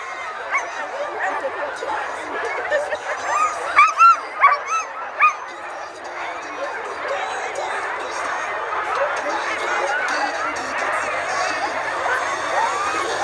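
Sled dogs bark, yip and whine in a dense, continuous chorus at the start of the Chic-Chocs 2023 race at Pin Rouge, with a few louder close barks standing out from the steady crowd of dogs.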